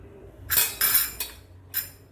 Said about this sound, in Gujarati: આ બધી જ વસ્તુને આપણે મિક્સ કરી દઈશું.